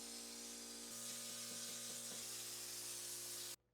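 A spray gun applies LizardSkin sound-deadening coating inside a van, giving a loud, steady hiss with a rhythmic compressor hum under it that cuts off abruptly at the end.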